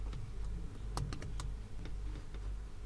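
Code being typed on a computer keyboard, a sparse, fairly quiet run of key clicks with a brief cluster of faster strokes, over a steady low room hum.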